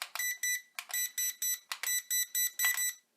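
A rapid series of about ten short, shrill electronic beeps from a JJRC H8C drone transmitter, evenly spaced and fairly loud, with no other sound around them.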